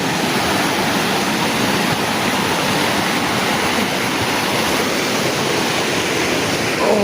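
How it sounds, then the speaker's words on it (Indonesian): Rushing river current at a tubing and rafting spot, where the stretch for white-water runs flows faster and rougher; a steady, dense broadband roar of water, close and constant throughout, with no voices. "di sini arusnya lebih deras ya, tuh, lebih ganas di sini"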